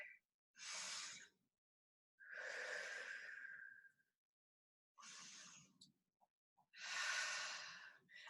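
Four deep breaths during a kneeling flex fitness class, each a long airy inhale or exhale of about a second, close and clear with short silent gaps between them.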